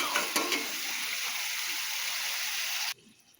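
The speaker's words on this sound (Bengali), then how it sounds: "এবার একটু জল দিব।" Water is poured into a hot pan of fish and potato curry with its spice masala. A loud, steady hiss and sizzle lasts nearly three seconds, then stops abruptly and the sound drops to quiet.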